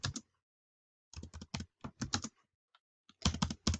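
Someone types on a computer keyboard in short bursts of quick key clicks, with pauses in between, close and fairly quiet.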